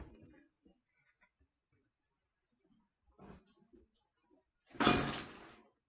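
A sudden loud clattering crash near the end, like a handful of hard objects spilling, after quiet scattered bumps and brief murmurs.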